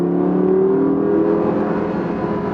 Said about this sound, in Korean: 이런 엔진 사운드 들어볼 수가 있고요.